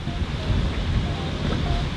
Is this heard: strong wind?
yes